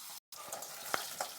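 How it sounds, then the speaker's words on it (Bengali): Tangra fish frying in oil in a pan, a close, steady sizzle with a brief gap and a couple of light clinks from stirring or turning. "তো মাছ কটা একটু ভাজা হোক"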